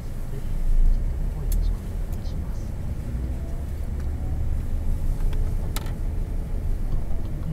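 Interior of a Tokyo–Chiba highway express bus on the move: a steady low road rumble and engine drone fills the cabin, with faint clicks and rattles and an announcement voice over the noise.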